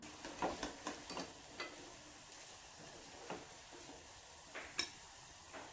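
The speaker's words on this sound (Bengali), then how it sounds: "এবার ফ্রাই করে সার্ভ করার পালা।" Fish chops fry in a pan, with a quiet sizzle under a series of soft clinks and scrapes of a utensil against the pan, the sharpest taps near the start and near the end.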